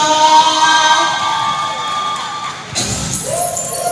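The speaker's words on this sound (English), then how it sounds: "And let's have a round of applause for Team St. Lucia." A crowd at the ECCB OECS Invitational game between Saint Lucia and Montserrat cheers and whoops loudly for a few seconds, with a sharp shift partway through as the noise swells again.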